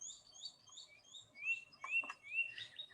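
Swallow-tailed kite calling from its throat with a series of thin, high chirping notes repeated through the clip, while other small birds twitter faintly in the background.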